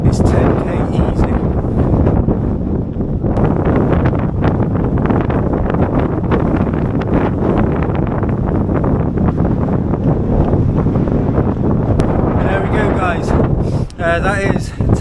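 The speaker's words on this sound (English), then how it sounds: "That has been very, very windy tonight." Strong wind buffets the microphone during an evening 10k run, a loud continuous roar and rumble throughout, with a voice speaking briefly under it near the end.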